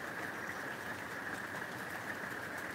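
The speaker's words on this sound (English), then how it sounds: "Oh, the rain sounds so nice." Steady rain falling outside, a soft continuous hiss with no distinct drops, heard faintly and evenly from indoors with no talking.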